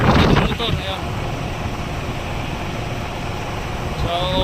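Cooling tower fan motor running after a bearing replacement, a steady broadband whooshing drone of air and motor that holds evenly throughout, with a brief louder rustle at the start.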